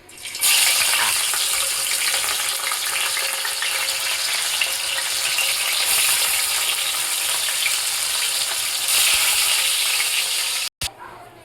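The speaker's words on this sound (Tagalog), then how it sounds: "prituhin na natin. Mainit na yung mantika." Loud, continuous sizzling and crackling of fish frying in hot oil, steady throughout and cut off briefly near the end.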